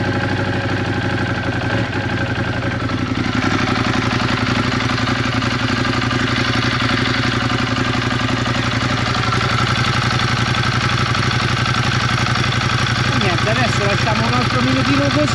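A Ducati Monster 821 motorcycle engine idles loudly and steadily at close range, a constant mechanical rumble with light clatter throughout.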